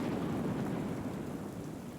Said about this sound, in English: Rain. Miserable. Nasty downpour.